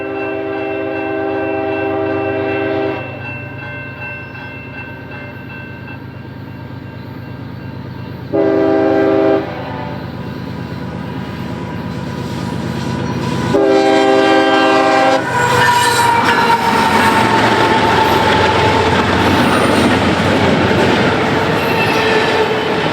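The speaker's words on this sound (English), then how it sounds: "the headlight of westbound CSX train I-169 popping into view to the east" A westbound CSX freight train, I-169, rolls past at a busy railroad junction, sounding several loud sustained horn blasts in separate bursts before a rising, close roar of wheels and rail cars takes over.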